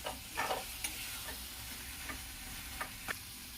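Masala with black salt frying in oil for a black chickpea curry gives a soft, steady sizzle, punctuated by a few light clicks and scrapes from intermittent stirring.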